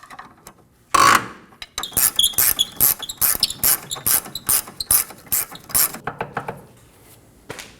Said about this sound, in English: Using a 22mm wrench or socket, we're going to remove the front control arm bolt.